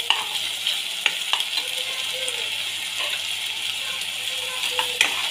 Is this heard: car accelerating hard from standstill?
no